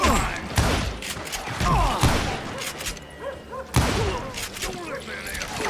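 Gunfire in the video game Call of Juarez Gunslinger, repeated loud gunshots and impacts crackling in uneven bursts, mixed with game voices speaking.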